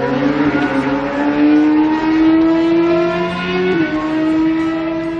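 A Kawasaki SRC World Championship Endurance Ninja ZX-10R four-cylinder racing engine holds a steady, loud whine that climbs slowly, dips briefly near the end, then keeps pulling.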